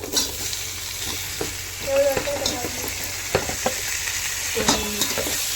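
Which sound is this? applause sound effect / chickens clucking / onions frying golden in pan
onions frying golden in pan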